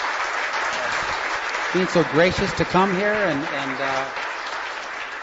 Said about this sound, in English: I think we owe Steve and Mr. Ramsey a round of applause